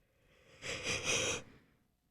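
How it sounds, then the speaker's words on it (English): A single drawn-out breathy exhale, close and fairly soft, swelling for under a second before fading, with no talking around it. "No, that was a yawn."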